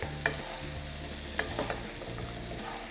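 Steady sizzling as boiled rice is stirred in a frying pan for veg fried rice, with scraping, clattering strokes and a few sharp utensil clicks, close and continuous, no voices.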